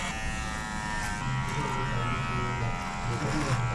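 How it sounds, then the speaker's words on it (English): Electric hair clippers buzz steadily while trimming and combing through a tangled beard at a spa in Pakistan, a continuous close hum running the whole time with someone talking over it. "My man got the clippers out here, combing through those tangles first,"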